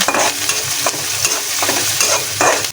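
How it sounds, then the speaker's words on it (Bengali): Chopped onions sizzling in hot oil in a wok, with a constant frying crackle and several rhythmic scraping stirs of a spatula, close and loud. "তেল গরম হয়ে গিয়েছে, এখন পেঁয়াজ কুচিগুলো দিয়ে হালকা ব্রাউন করে ভেজে নেব।"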